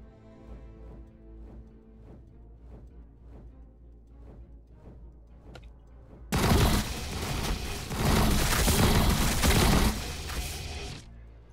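Tyranid unit opening fire in Warhammer Battlesector, a sudden dense burst of loud, crackling shots that erupts after a quieter stretch of rhythmic pulsing and rolls on for several seconds before cutting off.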